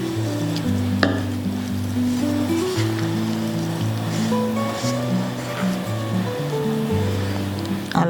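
Chicken pieces for street-style pakodi are mixed with cornflour and a little water, making a continuous wet squelching and stirring sound over low, steady background tones.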